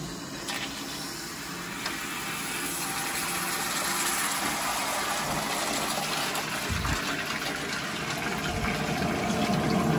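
A leaking Rheem tankless combi heater runs with domestic hot water flowing, a steady broadband rush of water and burner roar holding at even loudness, with a faint high whine and a brief low knock partway through.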